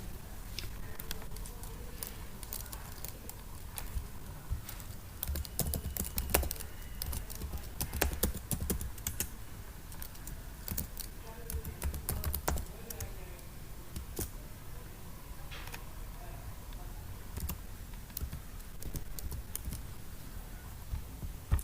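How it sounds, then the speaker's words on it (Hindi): Username and password are typed on a computer keyboard to log in, with faint, scattered keystroke clicks ticking away steadily in a quiet room. "यहाँ पे यूज़र नेम और पासवर्ड फीड करेंगे"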